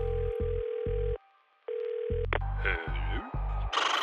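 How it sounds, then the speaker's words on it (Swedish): Telephone tones play: repeated electronic beeps with brief gaps and a steady tone, like a phone line ringing and connecting. "Ja, jag ska ringa."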